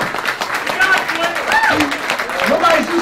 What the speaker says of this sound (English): Nobody's used to applauding at networking events